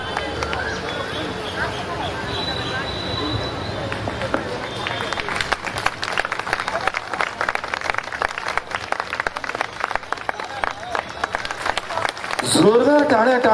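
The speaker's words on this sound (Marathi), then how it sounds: "जोरदार टाळ्या टाळ्या अशा वाजल्या पाहिजेत" Audience at the Dhamma Pahat 2024 gathering clapping, a dense, steady wash of many hands that builds and keeps going, with voices and crowd noise mixed in.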